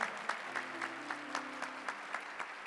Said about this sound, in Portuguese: Pode aplaudir, com força, com coragem, com determinação